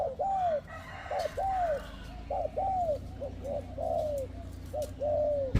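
A bird calls repeatedly in loud, clear, downward-curving hoots, about ten calls in quick succession, over steady low background noise.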